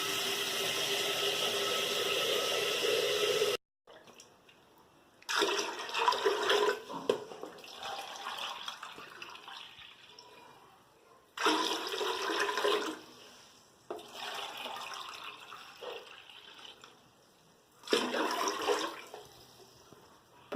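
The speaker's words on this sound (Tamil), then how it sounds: "இப்போது தேவையான அளவு தண்ணி சேர்த்தாச்சு." Water is poured into a pot for chicken biryani in several separate bursts of splashing flow, each lasting a few seconds with quiet gaps between, close by and moderately loud.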